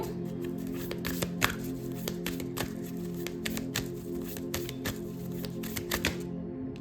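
Tarot cards shuffled and drawn, producing a run of quick crisp riffling clicks and flicks in an irregular rhythm, close and moderate, with only a faint hint of a voice.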